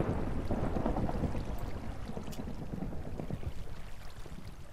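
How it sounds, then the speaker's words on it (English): Rumbling thunder after a lightning strike in the Minecraft survival game, a broad low roar that swells loud at the start and rolls on steadily, with watery splashing textures mixed in and no talking. "I heard lightning. Why did I hear lightning?"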